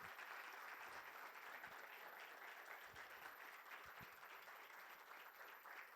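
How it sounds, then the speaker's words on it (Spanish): Applause for Eduardo at a book recognition event: continuous, fairly quiet crowd clapping heard from a distance, a steady wash of hands with a few sharper claps poking through. "un fuerte aplauso para Eduardo"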